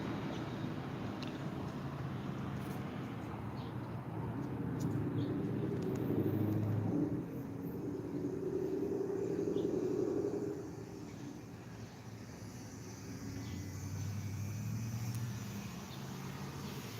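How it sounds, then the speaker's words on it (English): A truck hums steadily in the background, a low continuous drone that swells slightly in the middle and eases off toward the end, with no one speaking. "Damn truck making a humming noise."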